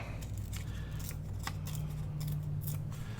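Scissors trimming the bottom off a scrap paper notepad, several crisp snipping cuts spaced irregularly over a few seconds, close and quiet against steady low background hum, no talking.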